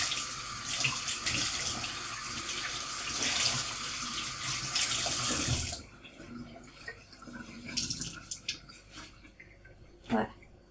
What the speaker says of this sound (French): on rince la toile